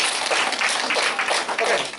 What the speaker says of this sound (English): give Alvin a round of applause.